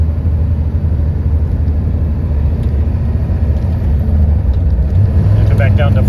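A 1989 Ford F350 pickup with a 7.3L diesel engine drones steadily at close range while driving, a continuous low rumble that deepens and strengthens slightly toward the end as it shifts down to fourth gear.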